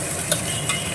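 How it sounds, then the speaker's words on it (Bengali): Onions being fried and stirred in a pan for a Bengali home-cooked dish, with close, continuous sizzling and two short scraping strokes of the spoon. "এবার এটাকে লাল লাল করে ভাজতে হবে।"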